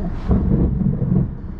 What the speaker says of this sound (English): Lightning strikes are absolutely insane.